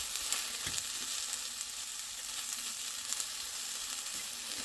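White blewit mushrooms fry in a pan on medium heat, giving a steady, even sizzle that holds at a constant level throughout, with no talking.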